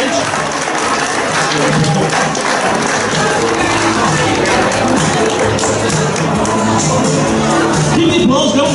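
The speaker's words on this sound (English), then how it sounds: "Keep the applause going, ladies and gentlemen" Loud, sustained applause and cheering from a club audience at a local talent show, a dense continuous roar of clapping and crowd noise with voices mixed in throughout.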